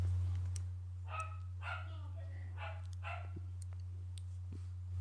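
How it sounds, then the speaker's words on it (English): A dog barks several times in a short, uneven series, faint and somewhat distant, over a steady low electrical hum in an otherwise quiet room. "Hold on, dog's barking."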